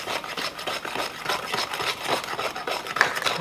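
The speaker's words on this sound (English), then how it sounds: "while I'm whisking." Egg and butter whisked in a bowl for a toasted coconut cake, a steady run of quick scraping, rubbing strokes close by with no pauses, heard alone.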